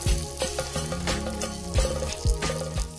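Chopped shallots and garlic fry in a pan, a bright continuous sizzle broken by several sharp scraping knocks of a spoon against the pan, close and without speech.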